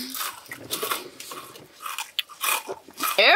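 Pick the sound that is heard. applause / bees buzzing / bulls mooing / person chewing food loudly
person chewing food loudly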